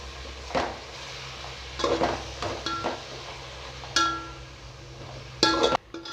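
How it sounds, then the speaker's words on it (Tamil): Onions and tomatoes being sautéed in a pan for prawn biryani: a low sizzle under intermittent scraping and clinks of a spoon against the pan, several sharper knocks near the end. "சேர்த்துட்டு நல்லா வதக்கி எடுத்துடலாம்"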